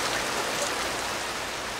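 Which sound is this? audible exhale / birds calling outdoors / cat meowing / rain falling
rain falling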